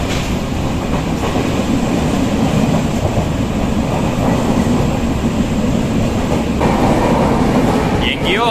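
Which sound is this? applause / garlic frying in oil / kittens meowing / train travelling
train travelling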